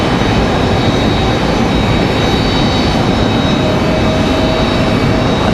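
An Embraer E175 regional jet on a Mesa flight from Houston gives a steady, loud, broadband jet-engine roar that holds constant at an airport, with no talk over it.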